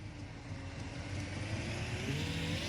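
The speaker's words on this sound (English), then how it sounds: "And now that's the reverse sound." A simulated car engine in a Unity game runs in reverse, a continuous close mechanical drone with a slowly rising whine as the car gains speed.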